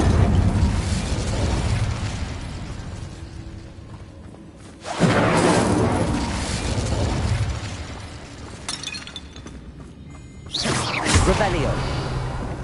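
Incendio fire spells burst in Hogwarts Legacy combat, heavy whooshing blasts at intervals over a constant rumble of battle noise, with voices talking over the fighting.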